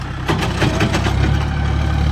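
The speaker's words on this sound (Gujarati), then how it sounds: "ઓલું ટ્રેક્ટર છે ને એ હાજી ઓલું ખાતર પટાણે વાડીમાં ભરે છે" A loader tractor's engine runs steadily while loading local manure on a farm, a loud, continuous low rumble with a slight rise in intensity partway through, and no talk over it.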